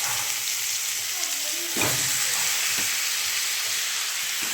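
Drumstick pieces sautéing in a hot pan, a steady close sizzle with a couple of brief knocks and scrapes from stirring.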